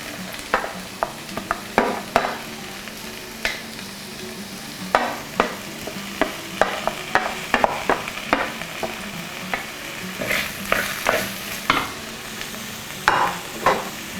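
Garlic, ginger, slit green chillies, curry leaves and shallots fry in hot oil for a fish head curry, a soft continuous sizzle broken by repeated sharp clacks and scrapes of a spoon stirring the pan, with no talk.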